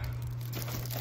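A large plastic bag being handled and crinkled during a cupboard-cleaning session indoors, a brief close crackling rustle over a steady low hum.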